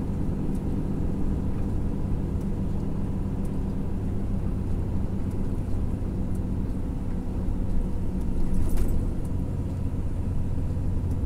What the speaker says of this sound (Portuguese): Espero que dê pra escutar o barulho desse freio motor, porque é maravilhoso.